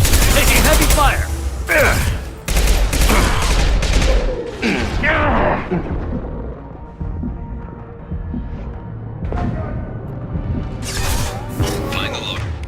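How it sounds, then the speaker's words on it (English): Heavy gunfire in Mass Effect 2, with dense bursts of loud shots and impacts crowding the first seconds. It thins into scattered fire and ambience, then picks up again near the end, with voices speaking amid the combat. "Taking heavy fire!"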